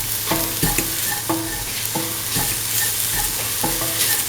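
A utensil stirs salt and curry into a carrot mixture in a pan, producing rhythmic scraping clinks over a continuous low sizzle.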